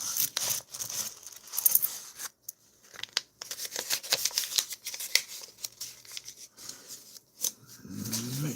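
Metallic clinking and rustling as quarters spill and rattle out of a paper wrapper, with crinkling paper in irregular bursts close by.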